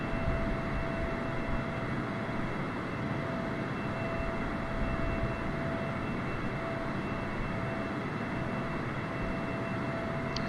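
Steady engine drone of an airplane cruising in the Flight Simulator video game, a continuous broadband roar with a faint steady tone running the whole time, no talk over it.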